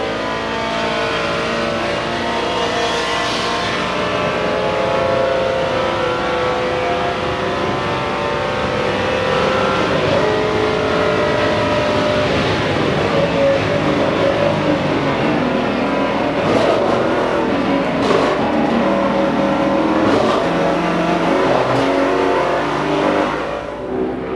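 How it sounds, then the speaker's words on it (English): A powerful Ford V8 race car engine roars continuously at a distance, rising and falling as it drives past on a race track, with a deep rumbling tone throughout. "Just listen to that big Ford V8."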